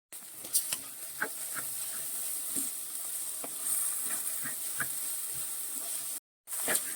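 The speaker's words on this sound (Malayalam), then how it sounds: "ഇനി അത് നന്നായിട്ടൊന്ന് നമുക്കൊന്ന് വഴറ്റിയെടുക്കണേ." Ingredients for nombu kanji sizzle in a pan with salt and turmeric, a constant close frying hiss broken by repeated scraping stirs, with a brief cut near the end.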